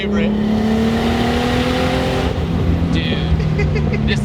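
A Lexus IS300 with a swapped 2JZ engine pulls hard under acceleration, a loud, close rising engine drone with shifting tone heard from inside the car, with voices talking over it.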